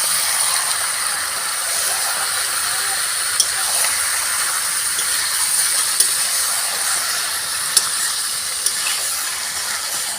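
Chicken pieces fry in spiced masala in a pan for a curd chicken recipe, making a constant bright sizzling hiss with a few faint ticks scattered through it. No one speaks.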